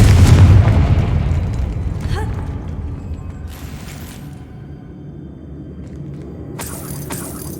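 Confringo fire spell exploding in the video game Hogwarts Legacy: a loud booming blast with a deep rumbling tail that fades over several seconds, followed by a few softer magical bursts.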